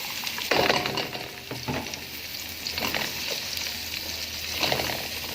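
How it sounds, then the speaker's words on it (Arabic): Onions sauté in oil in a pan as the start of a shrimp dish, a steady hissing fry with a few louder swells of crackle as they are stirred, close by and with no talking. "كله بقى هشوحه، مش هسيبه يقعد لغايه ما يتحمر كده"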